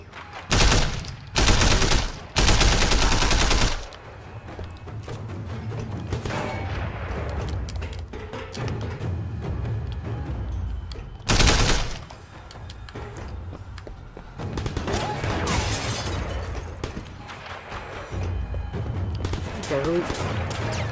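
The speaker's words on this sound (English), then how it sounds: "Who's still shooting?" Repeated bursts of gunfire in the open-world action game Sleeping Dogs, loud clusters of rapid shots early and again later, mixed with game ambience and someone talking throughout.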